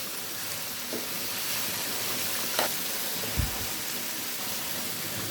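New flat beans and new potatoes stir-fry together in a pan, giving a steady, moderate sizzling hiss broken by a couple of soft stirring knocks, with no voices.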